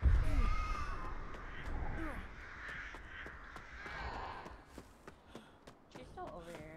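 Crows caw several times in the horror video game Dead by Daylight, harsh descending calls early on and again midway, mixed with game ambience and sharp ticking clicks while players talk over it.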